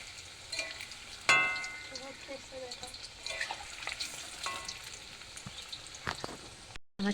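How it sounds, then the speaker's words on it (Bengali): Fried chicken pieces crackle in oil at close range, a steady sizzle broken by sharp clinks and scrapes of a utensil and a brief pause near the end. "আমার চিকেনগুলো ভাজা হয়ে গেছে।"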